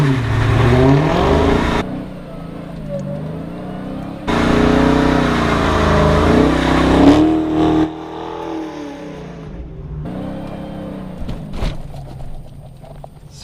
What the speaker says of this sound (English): when driving this car, you have to do what's called a Hellcat send-off